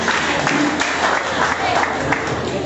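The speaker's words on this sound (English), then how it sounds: "can we clap for him?" Audience at a school debate on technology and elections applauding a speaker, a steady patter of many hands clapping with a few voices mixed in.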